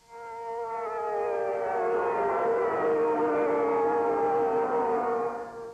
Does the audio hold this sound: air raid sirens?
yes